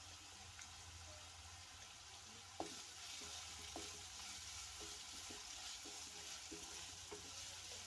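Curry leaves and turmeric frying in a pan of oil for a liver curry with amaranth leaves, a quiet, soft sizzle with scattered light clicks and pops from the pan, no voices.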